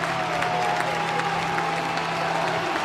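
A basketball arena crowd at an Indiana vs Maryland game bursts into steady, dense applause and cheering after a free throw, a continuous loud wash of clapping with a low droning hum underneath.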